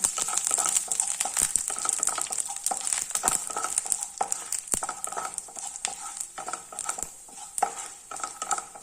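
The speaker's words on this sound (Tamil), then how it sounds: "நல்ல பொரியட்டும்" Peanuts and chana dal frying in a pan, a continuous bright sizzle with frequent scraping stirs and light clinks of the utensil against the pan, close and steady.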